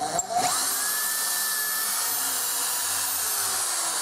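A power drill whines loudly and steadily as it bores a pocket hole through wood held in a Kreg K4 jig, running with no break from start to finish.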